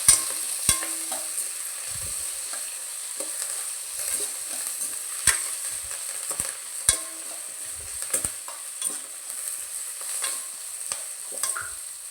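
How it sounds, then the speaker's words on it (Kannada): Horse gram frying in a pan for sambar, a steady soft sizzle with scattered sharp scrapes and taps of a spoon stirring, alone and close. "ಫ್ರೈ ಮಾಡ್ಕೋಬೇಕು."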